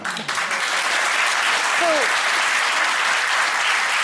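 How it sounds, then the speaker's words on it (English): Studio audience applause on a daytime television talk show, sustained loud clapping throughout with a brief faint whistle or cheer rising briefly near the middle. "I want everyone to give my mum a round of applause"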